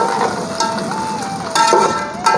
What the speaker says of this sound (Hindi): घी हमारा गर्म हो चुका है, इसमें हम भिंडी शामिल करते हैं। ये हमने भिंडी शामिल कर दी इसमें सारी, और अब हम इससे भिंडी की फ्राई करेंगे।